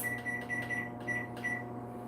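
A microwave oven heating banana pudding gives off a steady low electrical hum with a faint repeating tonal whine, soft and close in a quiet kitchen, with no talking.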